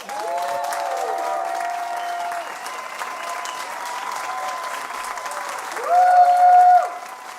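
An audience of roughly a thousand at a live music venue applauds to welcome a performer onto the stage, steady clapping with a few whoops, swelling louder near the end.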